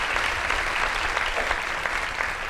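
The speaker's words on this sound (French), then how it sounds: "On peut l'applaudir" Audience at a magic festival show in Quebec gives loud, continuous applause, a thick wall of clapping with no talk over it.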